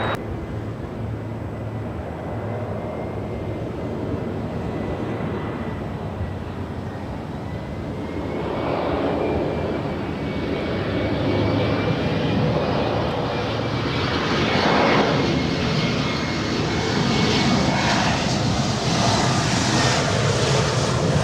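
An Air China heavy airliner landing on runway 24R at Los Angeles International Airport, its engine roar steady and broad, swelling louder as it passes and holding a high whine, with no voices.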